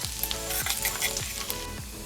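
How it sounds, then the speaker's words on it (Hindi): Chopped garlic sizzles and fries in hot oil in a pan for dal ka dulha, a steady close crackle broken by a few light stirring scrapes and clinks, with no voices. "अब लहसुन थोड़ा कच्चा है तो इसको होने में टाइम लगता है"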